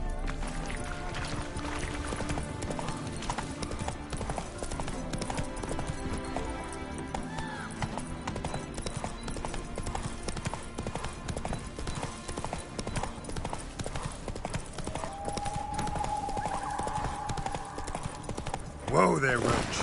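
Roach, the horse in The Witcher 3: Wild Hunt (Hearts of Stone), clip-clops along with a steady hoofbeat rhythm under ambient game sound and a voice talking.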